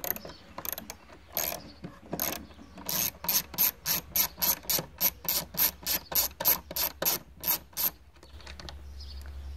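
Hand ratchet with a Phillips size 2 bit backing screws out of a Volkswagen Golf VI tail light: a run of crisp, evenly spaced clicks, close and clear, sparse at first and then quickening into a steady rhythm.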